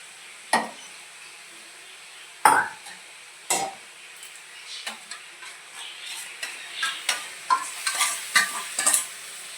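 Spices frying and being stirred in a pan for a thin rohu fish curry, heard as sharp close scraping strokes and clatters that come quicker toward the end, with a light sizzle underneath.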